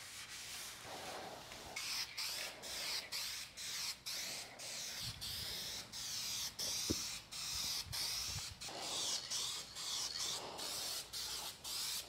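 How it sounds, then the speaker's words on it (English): Spray paint can hissing out a coat onto a car body, close and steady, in repeated bursts separated by brief pauses across the whole stretch, with faint rubbing noises between passes. "We're gonna go ahead here with one more coat and check it"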